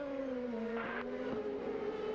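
A CART Indy-style race car roars past at pit exit during the 2001 Mid-Ohio round, a loud sustained engine note sweeping down in pitch as it goes by, with a brief gear-change blip in the middle.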